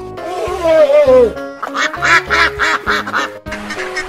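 Duck quacking from a toy-animal play setting: one drawn-out warbling call followed by a quick run of raspy quacks, close and loud, with a low hum underneath.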